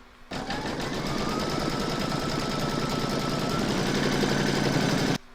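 An embroidery machine stitches quilting on a crazy-patch evening bag, a fast, even mechanical rattle that starts abruptly, runs steadily for about five seconds at close range and then cuts off.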